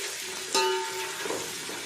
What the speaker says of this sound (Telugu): అల్లం వెల్లుల్లి పేస్ట్ పచ్చివాసన పోయేదాకా వేయించుకోవాలి కదా